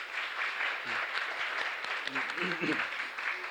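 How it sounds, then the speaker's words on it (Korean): Churchgoers at a traditional Sunday worship service clap in a steady wash of applause to welcome visitors, while a voice talks over the clapping. "일어나실 때 박수로 환영해 주시기 바랍니다"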